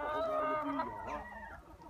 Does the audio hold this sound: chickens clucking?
yes